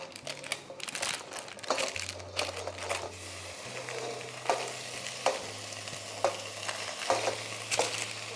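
Oven-roasted chicken and vegetables tipped back into a hot pan for chicken teriyaki with broccoli, red bell pepper and pineapple, giving a loud continuous sizzle with repeated scraping stirs and crackles, close up with no talking.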